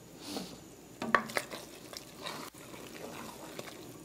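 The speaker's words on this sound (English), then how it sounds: "And I'm just stirring the pot, checking to see if the rice is cooked, but it isn't as yet. So just add a little water." A spoon stirs a cooking pot of meat and rice while a little water is added, giving soft scrapes, a few clinks and gentle liquid sloshing up close, with no talk.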